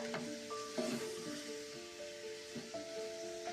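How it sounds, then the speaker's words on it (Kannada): Avare beans frying in oil in a pan, a steady close sizzle with occasional stirring scrapes, no voices over it. "ಕಾಳನ್ನು ಸ್ವಲ್ಪ ಎಣ್ಣೆಯಲ್ಲಿ ಚೆನ್ನಾಗಿ ಸ್ವಲ್ಪ ಫ್ರೈ ಮಾಡಬೇಕಾಗುತ್ತೆ"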